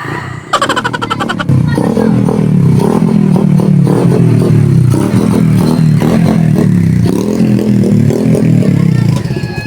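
A motorcycle engine revs loudly and continuously up close while being fitted with a seat, its throttle rising and falling with a rattling, clattery edge throughout.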